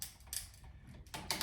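A Bontrager road bike shifter, with no chain fitted, is clicked through its gears, giving a few sharp, close mechanical clicks in quick bursts.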